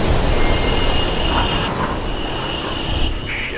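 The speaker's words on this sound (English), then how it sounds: "the blues are stopping trains in the tunnels now" A train roars loudly through a tunnel in the video game Mirror's Edge, a dense continuous rumble with squealing wheels and metallic high tones, heard alone without talk.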